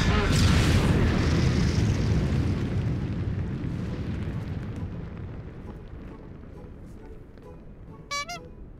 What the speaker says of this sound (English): I'm going to throw these giant freaking grenades at your face and blow you up.